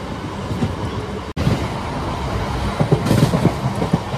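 A train runs through Bilwai railway station, which is under remodeling, on the Shahganj–Akbarpur route, a loud continuous rumble with rhythmic wheel clatter and a brief dropout partway through, no voices.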